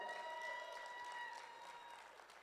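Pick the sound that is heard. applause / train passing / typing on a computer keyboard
applause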